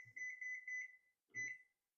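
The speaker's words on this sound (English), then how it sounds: "let me show you kitchen timer" A kitchen timer beeps in two bursts: a long run of sharp electronic beeps, a short pause, then a second, shorter run. It sounds close and clear, with no voices.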